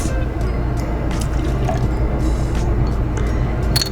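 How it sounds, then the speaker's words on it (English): Fresh lemon juice poured into a cocktail in a bar setting, a wet trickle and drip with small splashes over a low hum, ending in a couple of sharper clinks. "Add 1 ounce of fresh lemon juice"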